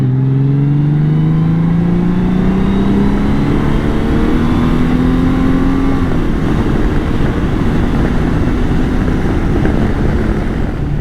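A 2018 Honda Gold Wing cruises on the freeway in seventh gear at nearly 90 mph, a steady loud engine drone mixed with heavy wind rush and a slowly rising tone.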